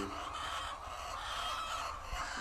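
White egg-laying hens clucking in a poultry shed amid a steady whirring of cooling fans that fills the space, with no talking.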